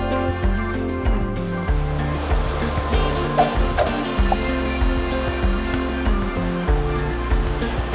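Surf at Parakeet Bay beach on Rottnest Island, Western Australia, a steady wash of waves breaking and rolling in, moderately loud with a constant roar and no talking.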